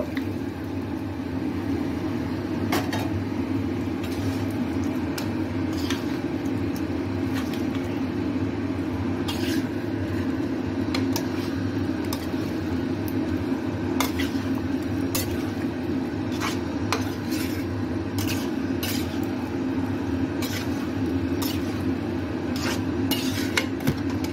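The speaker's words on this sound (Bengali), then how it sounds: "এখন আমি ভেজে রাখা এঁচড়, চিংড়ি, আলু সব একসাথে দিয়ে দেব।" Fried jackfruit, shrimp and potatoes are tipped into a pan of sautéed spices and stirred: a steady cooking hiss and rumble runs throughout, with sharp utensil clinks and scrapes against the pan recurring irregularly.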